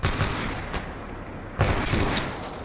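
Gunfire in S.T.A.L.K.E.R. Clear Sky mod gameplay, two loud dense bursts of shots separated by a short gap, close and harsh with no talk.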